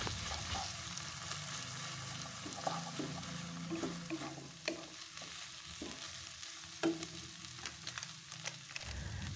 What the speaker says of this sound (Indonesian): Kemudian diaduk-aduk hingga semuanya tercampur merata.